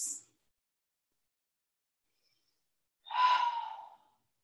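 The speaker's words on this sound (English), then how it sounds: "just a few more breaths" A single deep exhale during a yoga pose, an airy sigh-like breath of about a second after near silence, preceded by a brief faint breath at the very start.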